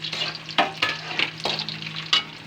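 Onion and garlic sautéing in a pan, a steady close sizzle broken by several scraping stirs of a spatula, with no talking.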